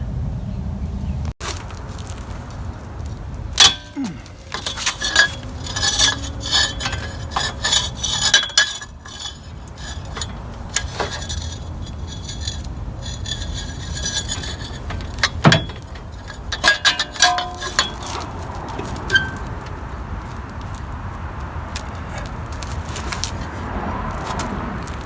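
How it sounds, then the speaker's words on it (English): Wrenches loosen nuts on a Toyota Camry 3.0L V6 CV axle, with repeated metallic clinks, ratcheting and tool clatter scattered irregularly over a steady background rumble, close by and with no talking. "I'm going to have to catch the other side over here with another wrench"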